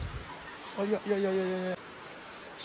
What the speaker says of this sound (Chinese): 我听到他在这里叽叽喳喳叫个不停